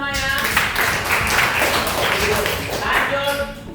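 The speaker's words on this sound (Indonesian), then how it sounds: "Oke, tepuk tangan semuanya." A classroom of students claps hands together in a dense, lively burst of applause lasting a few seconds, with some voices mixed in.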